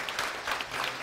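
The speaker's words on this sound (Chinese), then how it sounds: "掌声欢迎一下好不好？" A church congregation applauds during a Sunday worship service as the pastor's wife is welcomed. The clapping is brief, steady and moderately loud from a roomful of people.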